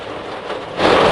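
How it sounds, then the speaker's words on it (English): Hard rain pours down steadily as a broadband hiss, growing noticeably heavier and louder near the end. "the rain is getting hard here"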